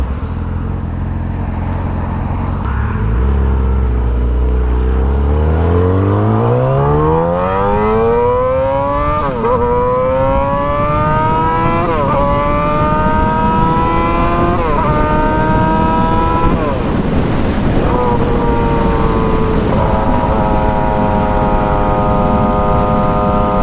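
A 2007 Yamaha R6 sport bike fitted with a full exhaust and Power Commander 5 idles low, then revs up through several climbing, screaming pulls with brief drops between them, loud and close, before holding at a high whine.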